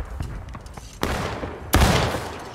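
Soldiers fire muskets in the Civil War game War of Rights: scattered distant pops, then a sharp loud volley, followed by an even heavier, closer volley that rumbles and fades.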